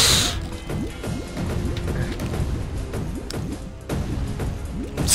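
Repeated smashing hits from combat in the video game Castle Crashers, a busy run of sharp crashes and thwacks with clanking, mechanical rattles over a steady game background, loud and close with no talk.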